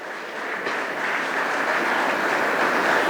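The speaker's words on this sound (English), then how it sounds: "Please give him a standing ovation and big round of applause" Applause from an audience at a student felicitation ceremony for a successful pre-university commerce student, a dense steady wash of many hands that swells slightly and holds loud throughout with no talk.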